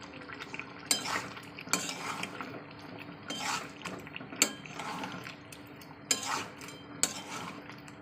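Chopped tomatoes being stir-fried for chicken kosa, a low continuous sizzle broken by sharp scraping and clanking spatula strokes against the pan at irregular intervals, close by.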